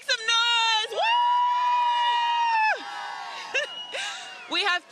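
Loud whoops and long sustained shouts from a few nearby voices at the National Western Stock Show kick-off parade on a Denver street, with a brief burst of crowd noise near the end.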